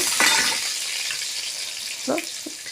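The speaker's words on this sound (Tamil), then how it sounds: "இப்போ வந்து பூண்டு போட்டுக்கலாங்க" Garlic cloves dropped into hot oil with golden-fried chana dal and urad dal for a raw banana poriyal, a steady broadband sizzle with a couple of short knocks near the end.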